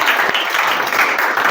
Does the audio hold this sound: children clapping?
yes